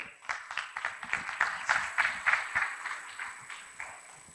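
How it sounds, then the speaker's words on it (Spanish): A conference audience at a talk on multimodal treatment of chronic pain gives a short round of applause, a fairly faint, close patter of claps rising and then thinning out over about four seconds. "Otro aplauso, por favor."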